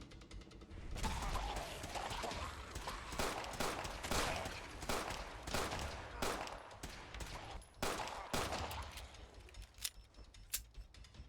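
Rapid bursts of gunfire during Fallout 4 combat, dense crackling volleys and single sharp shots coming in uneven clusters with brief pauses, fairly quiet overall.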